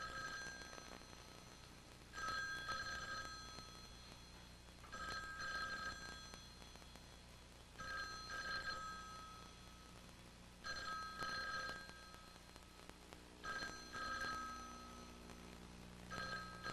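A telephone bell rings in repeated bursts, about six rings spaced roughly every three seconds, clear and fairly close, with no answer and no talking between the rings.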